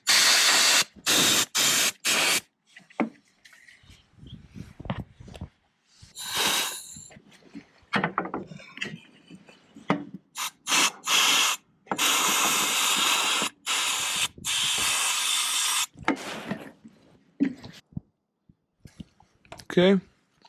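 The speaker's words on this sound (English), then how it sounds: "So got the air duster out. Let's just get this nice and dry." Repeated bursts of compressed air from a canned air duster blast water out of a Jeep Wrangler TJ engine connector after an engine wash, loud close hissing sprays of varying length separated by short pauses and handling clicks.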